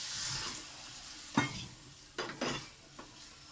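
Shrimp and taro stolon curry simmering in a pan with a little added water, giving a soft steady bubbling hiss broken by a few louder scraping stirs, close and without talk.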